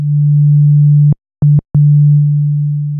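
A steady low sine wave from the sub oscillator of an Arturia Oberheim SEM V synth hums loud and clean, briefly cutting out twice with small clicks before resuming at an even level.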